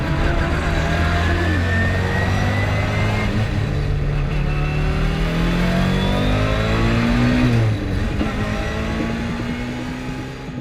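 A Group B rally car engine revs hard and loud, its rising and falling note sustained close by for several seconds before easing off toward the end.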